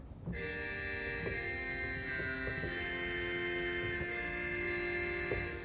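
Nasal, buzzy Ballpfeife reed stop, regal-like, on a 2015 Lively-Fulcher pipe organ in St Theresa's Catholic Church, Ashburn, holding sustained notes with a wavering tremolo, steady and fairly quiet throughout.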